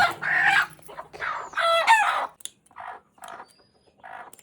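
Roosters close by, clucking in short bursts, then one loud crow at about two seconds, followed by further scattered clucks with quiet gaps between them.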